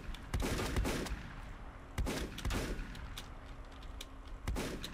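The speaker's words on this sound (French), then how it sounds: "Évite les balles, évite les balles." Repeated gunshots from the Volcanoids video game, sharp bursts in irregular clusters over a steady low background, several loud volleys spaced through the clip.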